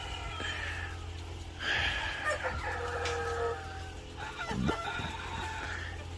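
Free-range chickens clucking softly in the background, with occasional calls over a low steady ambient hum.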